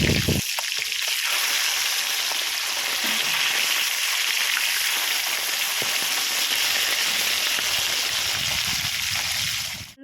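Fish frying in oil, a loud, unbroken hiss of sizzling that fills the whole span and fades away sharply at the very end.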